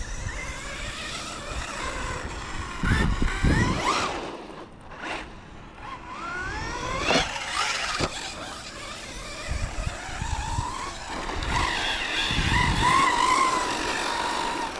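A Hobao Hyper TT 2.0 RC car on its first run: a high electric-motor whine that climbs and falls as it accelerates and slows, with bursts of rough tire and ground noise, sometimes near and sometimes farther off.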